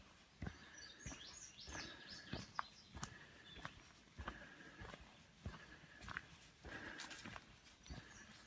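Birds chirp and sing along the Appalachian Trail on a sunny afternoon, short calls repeating through the clip, fairly faint with soft thumps and rustles in between.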